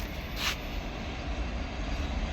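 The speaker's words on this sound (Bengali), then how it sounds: "রাতে প্রচণ্ড বৃষ্টি হয়েছে, আর সাথে সাথে দেখুন ট্রেন আসছে" A freight train rolling along the Sealdah railway line after heavy overnight rain, a steady broad rumble of wheels and wagons at moderate distance with a brief hiss near the start.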